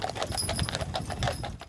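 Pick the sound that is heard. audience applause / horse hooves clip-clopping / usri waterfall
horse hooves clip-clopping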